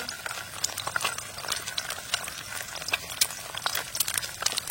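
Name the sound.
egg frying in oil in a kadai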